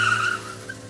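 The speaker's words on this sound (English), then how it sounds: "They also heard a car screeching off." Car tyres screeching as the vehicle speeds off from a residential estate at night, a brief sharp squeal that fades within a second, heard alone.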